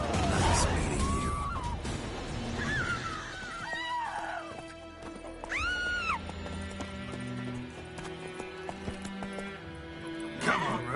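Roach, a horse in The Witcher 3, whinnies sharply several times while hooves clip-clop beneath, with a crash near the end and a brief voice in the game mix.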